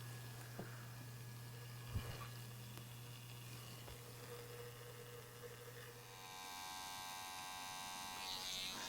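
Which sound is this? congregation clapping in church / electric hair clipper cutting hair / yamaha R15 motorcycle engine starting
electric hair clipper cutting hair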